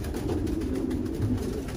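Racing pigeons in a breeding loft coo softly and continuously, low and murmuring, with a steady background hum.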